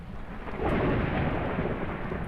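Heavy rain and rumbling thunder in the Phasmophobia video game, a dense continuous roar that swells after the first half second and stays loud throughout, with no talk.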